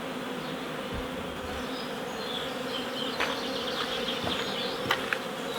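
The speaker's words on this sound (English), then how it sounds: "because there's so many bees in it, I felt that they might abscond this morning" A dense, continuous buzz of a large honeybee swarm in a willow tree fills the air, steady and close, with occasional individual bees zipping past.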